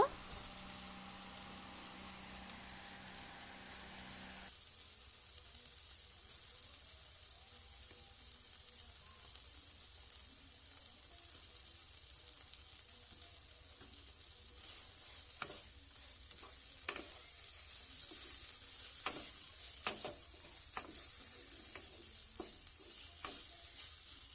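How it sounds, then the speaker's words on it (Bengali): Potatoes that were fried beforehand go into a frying pan, and a steady sizzle of oil follows for the whole stretch, broken by scraping and clinking as they are stirred, for a spicy small-fish dish. "আগে থেকে ভেজে রাখা আলুগুলো এবার দিয়ে দেব।"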